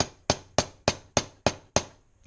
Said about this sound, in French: vous tapotez un peu avec un marteau ou un maillet pour décoller le pas